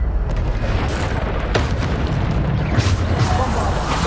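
Bombarda spell blasts in Hogwarts Legacy, dense booming explosions with bursts of debris, loud and continuous within combat noise.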